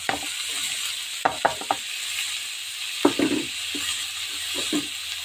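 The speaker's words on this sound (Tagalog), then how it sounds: "Ayan, igigisa ko na." Chopped chayote sautéing in a pan, giving a steady soft sizzle with several sharp scrapes and clacks of a utensil stirring at irregular moments.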